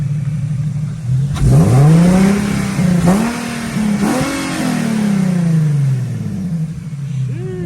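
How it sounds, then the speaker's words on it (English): An Infiniti G37 with aFe Pro Dry S intake filters revving up close, several sharp throttle blips rising and falling over a steady idle, loud and clear with no talk over it. "Alright, give it a couple revs, bro."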